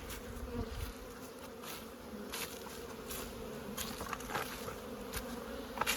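A steady buzzing drone of many honey bees flying close by at an apiary in early spring, continuous and even throughout, with no voices.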